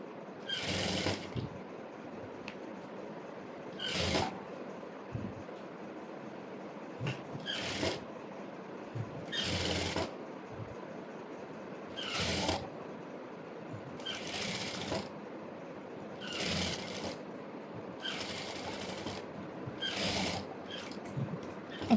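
Sewing machine stitching lining onto saree fabric being made into a maxi dress, running in short bursts of rapid mechanical rattling separated by quiet pauses, close and clear with no talking.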